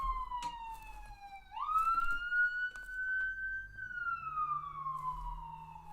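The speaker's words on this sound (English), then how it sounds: "You don't need the siren if nobody's on the street." An ambulance siren wails as it passes a house on a residential street, a steady rising and falling tone that is clear but moderately distant, with no one talking.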